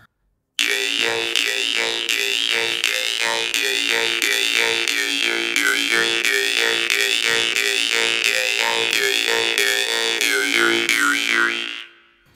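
A jaw harp played in the "ancient melodies" technique twangs continuously with a buzzy drone and rhythmically shifting overtones, loud and close, with no voices before it fades out.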